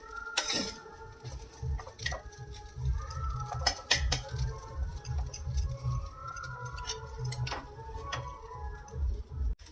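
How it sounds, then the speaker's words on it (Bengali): A spoon scrapes and clinks against a pan while semolina upma is stirred uncovered, giving soft irregular taps and scrapes at low volume with a steady low hum behind them. "নাড়তে থাকবো। নাড়তে নাড়তেই এটা একদম ঝরঝরে হয়ে যাবে।"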